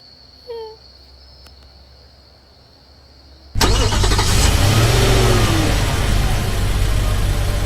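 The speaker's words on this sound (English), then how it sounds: "I'm gonna turn on my truck too." A truck's engine starts inside a roleplay video game, firing up abruptly after a quiet stretch with a few faint chimes, then settling into a loud, steady running drone.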